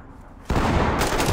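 In the Ready or Not tactical shooter game, a sudden close, loud burst of gunfire cracks out and continues as dense rapid shots over a dull background.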